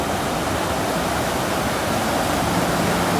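A man-made waterfall gives a steady, loud, broadband roar of falling and rushing water that stays constant throughout, with no voices.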